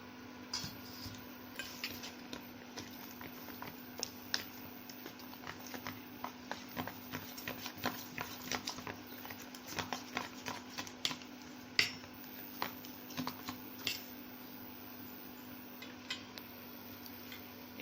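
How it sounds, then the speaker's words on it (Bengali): Gram flour batter is mixed with spices in a bowl, producing steady irregular taps and clinks of a utensil against the bowl over a faint constant hum, fairly quiet and continuing throughout. "এবার এগুলোকে আমি ভালো করে মিক্স করে নেব"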